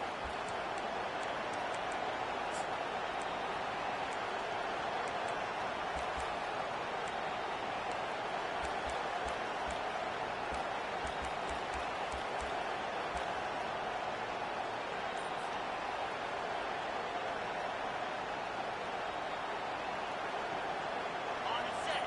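A home crowd at a football game roars in a steady, dense wash of noise that holds constant throughout, with many voices blurred together into one broad, loud din.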